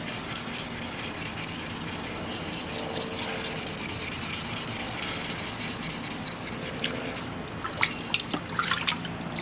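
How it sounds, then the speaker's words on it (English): Continuous close-up gritty rubbing with a wet, watery edge, as wet sandpaper scrubs steadily over a Magnalite metal pot lid, growing a little louder and choppier near the end. "it's got to be wet sandpaper, because you got to use that water"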